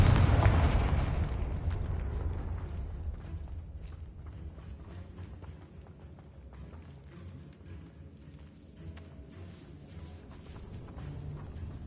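A Confringo blasting spell cast in the Hogwarts Legacy video game: a loud burst at the start, then a rumbling, crackling tail with creaks and clatter that fades and swells again over nearly twelve seconds, with no talk.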